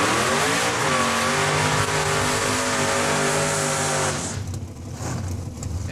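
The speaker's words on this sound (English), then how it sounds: "that's Richie Harder warming up the rear tires" A drag race car at Saskatchewan International Raceway roars loudly and steadily while warming up its rear tires with a burnout, holding one harsh sustained engine note for about four seconds before it cuts off into fainter track noise.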